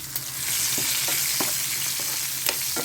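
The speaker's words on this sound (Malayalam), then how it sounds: "മീൻ ഫ്രൈ ചെയ്ത് മാറ്റിയതിൻ്റെ ഞാൻ പച്ചമുളക് ഇട്ടിട്ടുണ്ട് മീൻ ഇത്രത്തേരം ഫ്രൈ ആയിട്ടുണ്ട്" Green chillies sizzle loudly in the oil left from frying fish for a fish curry, a dense, steady, close-up crackle with occasional sharp stirring scrapes.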